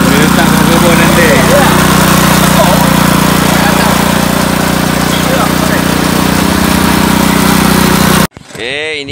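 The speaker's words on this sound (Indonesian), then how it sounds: "Ini mesin zaman purba tahun bila ni." An old engine in a garden setting runs steadily at constant speed, a loud, rough mechanical drone, before cutting off abruptly near the end as a voice begins speaking.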